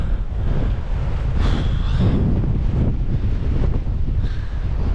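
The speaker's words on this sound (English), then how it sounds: "Bloody hell, it is windy up there." Strong wind buffets the microphone on an exposed hilltop at Walla Crag in the Lake District, a loud continuous roar that rises and falls in gusts with no talking.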